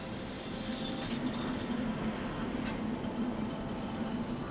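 A train runs in the VR game Derail Valley, a continuous low rumbling hum with faint rail noise, steady and fairly close throughout with no talking.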